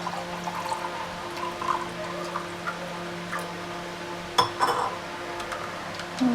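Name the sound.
pouring cold water into a drink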